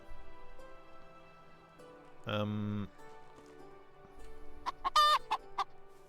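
Hens in a farming video game give two short bursts of clucking, one brief low cluck and then a quick run of higher squawks, quiet and clean against a faint game background, with no speech.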